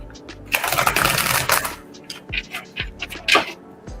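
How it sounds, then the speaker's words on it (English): Tarot cards being shuffled by hand during a zodiac reading, giving several bursts of crisp riffling and flicking close by, the densest run early on followed by shorter snaps and taps. "To shuffle one more time"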